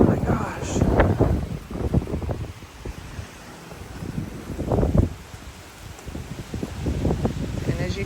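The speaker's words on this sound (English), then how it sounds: "This is what happens to my swimming pool every time the wind picks up." Strong gusts of wind blowing outdoors in Las Vegas, buffeting the microphone in loud rushing surges that rise and fall across the whole stretch.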